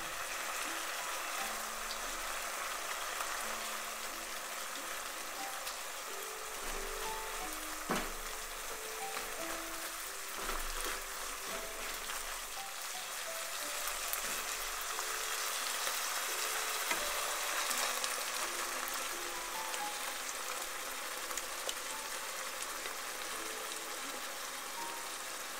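Tomato paste and crushed tomatoes cook in a pan after red wine, giving a steady, dense sizzling hiss throughout, with soft background music playing underneath.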